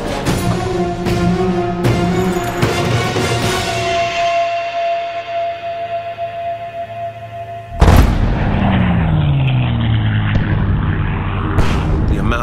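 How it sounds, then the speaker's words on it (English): Anti-aircraft flak fire bursts during a WWII bombing raid on the heavily defended Blechhammer target, with loud booms and sharp blasts over a steady engine drone, one big explosion near the middle. "There's so much anti-aircraft fire and smoke screens."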